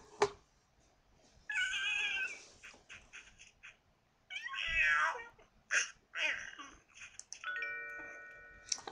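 An alley cat in the video game Catz 4 gives several meows in bursts, a long call, then shorter ones spaced apart. A bright chiming game tone rings near the end.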